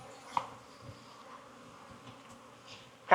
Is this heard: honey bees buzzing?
yes